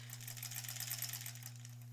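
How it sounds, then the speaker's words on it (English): A sewing machine stitching along the edge of a zipper pouch, a quiet rapid steady whir with fine repetitive clatter over two seconds, heard alone. "now let's just sew along that edge"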